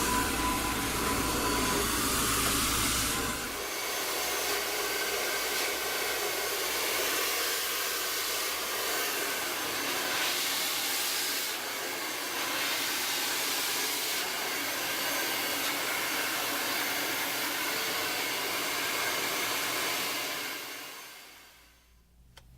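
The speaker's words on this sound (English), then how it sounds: "we're going to be using a high-powered blow dryer from Amika" High-powered Amika blow dryer drying hair on a lace front closure gives a loud, steady close whooshing roar that shifts slightly in tone partway through, runs for about twenty seconds, then cuts off.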